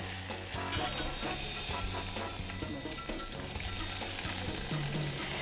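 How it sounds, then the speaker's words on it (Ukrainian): Butter melts and sizzles in a pan for rice, a dense continuous crackle close by with faint clinks and low rumbling underneath. "Для этого мы растапливаем сливочное масло."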